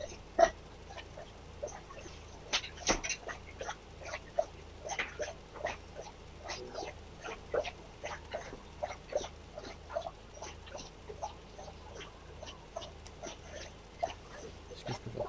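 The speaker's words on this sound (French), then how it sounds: "c'est juste qu'un chien qui boit." A dog lapping water on a dairy farm in Farming Simulator 19, a rapid irregular series of soft wet laps and splashes, fairly faint and continuous with no talking.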